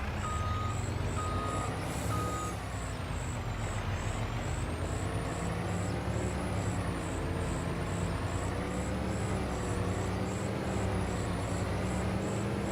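Heavy truck engine in the Farming Simulator 25 video game drones steadily and loud throughout, with repeated reversing beeps and a brief air-brake hiss.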